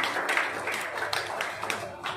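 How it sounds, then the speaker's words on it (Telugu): An audience at a school self-government day event claps together, a dense, steady patter of many hands at moderate loudness throughout. "గట్టిగా చప్పట్లు కొట్టండి"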